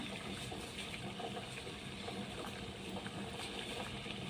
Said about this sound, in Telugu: బాగా మరుగుతుందండి.